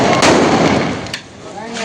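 Diwali firecrackers go off outdoors with sharp, loud bangs and a crackling rumble. Two distinct bursts stand out, and voices can be heard faintly in the background.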